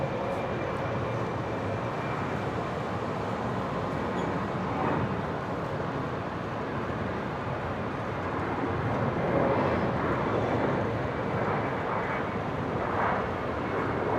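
A Jetstar Boeing 787-8 airliner moving at Brisbane International Airport gives a loud, continuous jet roar that swells slightly toward the end, with no talk over it.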